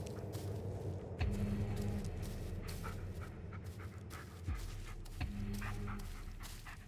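A dog in the Blair Witch video game pants steadily close by, with occasional faint whimpers amid low ambient game sounds and a few soft thuds.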